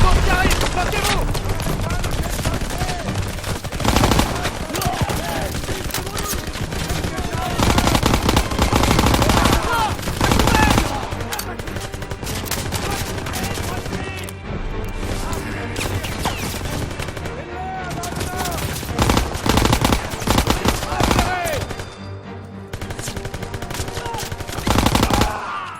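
Dense, loud gunfire from the Call of Duty WWII video game, rapid machine-gun bursts and volleys throughout, with game voices shouting between shots.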